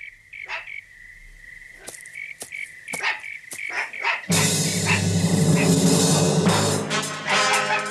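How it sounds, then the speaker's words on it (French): A dog barks repeatedly in sharp bursts over a steady chorus of crickets or frogs at night, then a louder, denser stretch of noise takes over. "Un chien tout seul, rassure-toi. Pourquoi est-ce qu'il aboie?"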